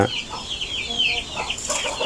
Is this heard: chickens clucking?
yes